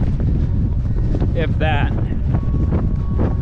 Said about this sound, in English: It's a little windy, but it's not too bad.